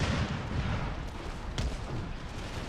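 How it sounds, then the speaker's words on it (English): Howitzers and cannons fire in an Empire 2 battle against the French army, a dense run of deep booms and thuds rolling over each other, one sharper blast standing out midway. "howitzers, some cannons that are still able to lay fire upon us"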